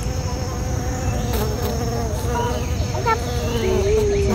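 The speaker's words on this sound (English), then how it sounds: "It's a bee." A bee buzzes in a jungle, a steady close drone with a wavering tone that runs continuously throughout, fairly loud against the surrounding background.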